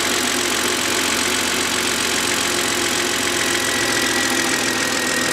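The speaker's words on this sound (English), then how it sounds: "just have a listen to this engine. Doesn't it sound absolutely sweet?" A BMW 130i idles close up with a steady, even mechanical hum and faint ticking, constant in level with no voices.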